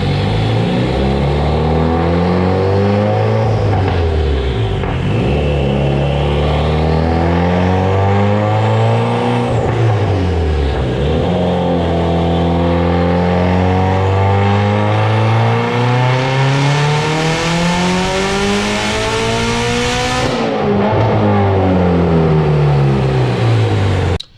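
A Mitsubishi Evo X engine with a stock motor and Garrett GTX3576 turbo at 22 psi on ethanol fuel revs loudly and continuously, rising and falling in pitch through several pulls, with a sharp surge near the end.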